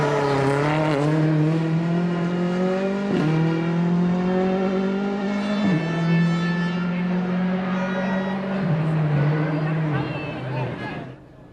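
Rally car at full throttle on a town special stage of Rally Estonia, heard from inside the car as the engine drones and climbs through several gear changes, loud and steady, easing off at the end.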